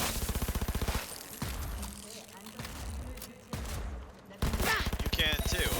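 Shotgun blasts and rapid gunfire in a video game firefight, loud rhythmic bursts at the start and end with quieter gaps between, ending in a renewed heavy volley.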